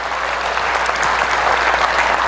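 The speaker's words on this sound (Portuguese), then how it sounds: "Vamos dar uma salva de palmas." A church congregation applauds in a dense, steady burst of clapping that fills the room for a few seconds, with no speech over it.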